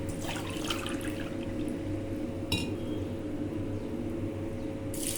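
Water from a glass is poured into a pot of rice on a stove for quick tomato rice, a soft continuous trickle with a faint clink over a low steady hum, and no talking.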